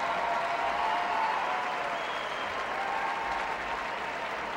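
Large crowd applauding and cheering at the Westminster Kennel Club dog show in Madison Square Garden, a dense, loud, sustained roar of clapping that fills the whole stretch without a break.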